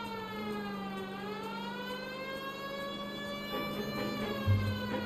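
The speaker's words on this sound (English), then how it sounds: "Hey, siren time." A police car siren from the L.A. Noire video game wails steadily, its rising and falling tone sustained throughout at moderate level, with a brief low thump near the end.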